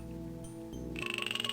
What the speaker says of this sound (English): I really like all the atmospheric stuff with the animals. In this case, frogs.